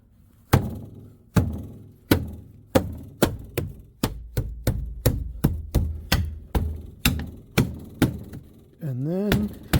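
A series of firm, evenly spaced thumps as a Land Rover door card is banged into place by hand, about fifteen solid knocks in steady rhythm, ending with a brief squeak.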